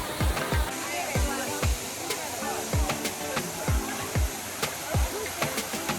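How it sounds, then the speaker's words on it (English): A small waterfall in the El Yunque rainforest rushes in a steady broadband wash, with repeated low thumps and splashes scattered throughout and faint voices at times. "I don't know what this is, a little waterfall,"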